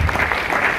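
A brief burst of audience applause at a recognition program, a dense, fairly loud patter of many hands clapping lasting under a second with no talking.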